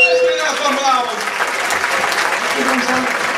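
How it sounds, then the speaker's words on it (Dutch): Loud applause from a crowd for prize winners at Volle Maon in Zundert, 2011, sustained clapping filling the room for several seconds. "Geef ze één keer een applaus, dames en heren"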